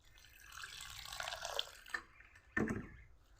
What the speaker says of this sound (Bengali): এখন ধনেপাতাগুলো খুব ভালো করে ধুয়ে নিব।